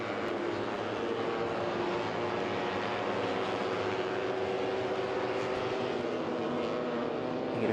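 Onboard sound from an Underbone 150 race motorcycle during an Asia Road Racing Championship session, a steady, high-pitched engine drone with wind noise, continuous and loud throughout as the bike flows through fast corners.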